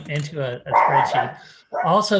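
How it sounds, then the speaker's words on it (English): A pet dog agitated by roofers working on a house barks in the background while a person talks steadily over it during a remote board meeting. "I have people putting on a new roof, and my dog's going crazy"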